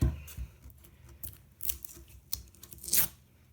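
Clear Scotch tape being pulled and torn for a kids' craft, a few short crackling rips close by with quiet handling noise between them.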